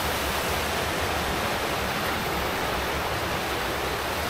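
Bira-Bira Falls in Cawag, Subic, Zambales, with a strong mountain river current, a loud, dense, constant rush of falling and flowing water close by, with no other sounds.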